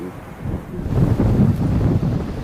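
Strong typhoon wind buffets the microphone in a low, roaring surge that rises and holds near and loud, with no talk over it.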